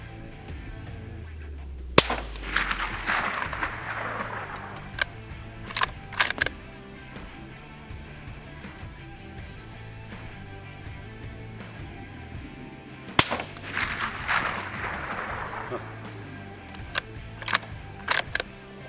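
A suppressed Ruger American Gen 2 rifle fires 180 grain ammunition outdoors: two sharp, well-spaced shots, each followed by a fading tail and a series of metallic clicks from working the bolt.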